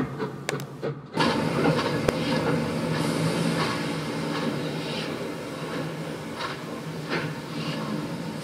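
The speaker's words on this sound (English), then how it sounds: "the crew have had to set back the coaches out of the platform to provide the clearance for the engine" Heritage train at Faringdon station, with coaches being set back out of the platform so the engine can run round: a steady, close rolling rumble with a sharp clank near the start and faint knocks and squeals throughout.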